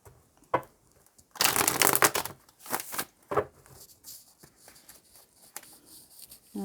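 Tarot cards riffled and shuffled in several quick bursts, close by, with crisp papery flutters separated by short pauses.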